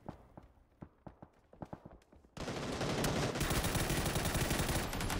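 Gunfire in the PUBG battle royale game during a league match: a run of separate sharp shots, then a dense, loud sustained burst of rapid automatic fire filling the rest.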